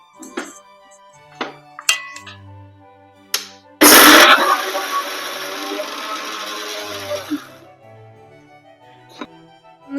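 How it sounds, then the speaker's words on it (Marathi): Kitchen clinks and taps, then a mixer grinder whirs loudly for about four seconds, grinding a spice paste with coriander, before stopping, followed by more quiet clatter. "हे सर्व मिश्रण आपण मिक्सरला बारीक करून घेणार आहोत"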